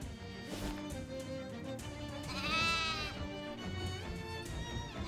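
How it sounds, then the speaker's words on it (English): Sheep bleating in the video game Shadows over Loathing: one wavering, quavering bleat swells in the middle, fairly loud over busy game music and background sound. "Oh, sheep."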